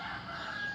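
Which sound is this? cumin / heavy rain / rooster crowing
rooster crowing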